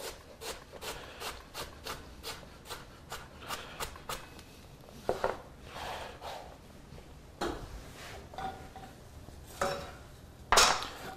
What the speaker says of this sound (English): a little bit of fresh cabbage. Just going to julienne that.